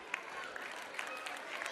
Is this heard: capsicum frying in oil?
no